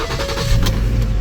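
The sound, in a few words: car engine starting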